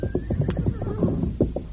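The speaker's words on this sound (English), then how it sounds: "Bring the other horse along, Tonto." A horse neighs loudly and close by, a ringing whinny over a busy layer of clip-clop hooves and low rumble from an old western radio drama.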